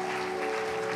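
A church congregation cheers and applauds as Pastor Steve steps onto the platform, a steady, dense wash of clapping and crowd noise filling the whole moment without pause.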